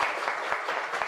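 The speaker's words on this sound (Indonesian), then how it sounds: "Tepuk tangan untuk Davin." Brief classroom applause for a student named Davin, a short burst of fairly quiet, rhythmic clapping from a small group lasting about a second.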